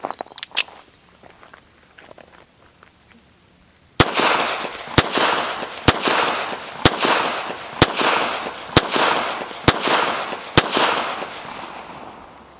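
Beretta Model 86 Cheetah .380 tip-up barrel pistol firing a rapid string of eight sharp, loud shots at roughly one-second intervals, preceded by quieter handling clicks.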